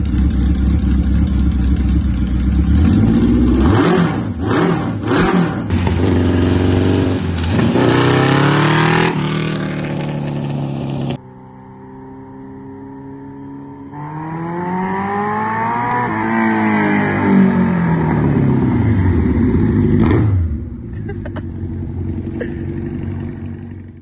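A Yamaha XS11 motorcycle engine revs hard in repeated loud blips, rising and falling in pitch, with a brief lull before another long run of throttle sweeps close by.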